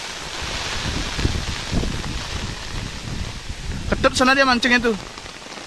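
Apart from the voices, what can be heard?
rain and strong wind at sea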